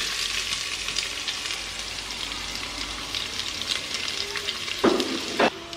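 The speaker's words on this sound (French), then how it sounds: "je vais venir donc mettre mon oignon et mon ail à l'intérieur" Chopped onion and garlic frying in a pan that is still heating up, giving a steady close sizzle with a couple of louder stirring scrapes near the end.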